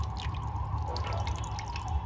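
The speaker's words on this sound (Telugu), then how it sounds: "ఇంకా వాటర్ కారుతుంది" Water drips steadily from soaked lentils for gummadi vadiyalu, small close drips over a low hum, with no speech.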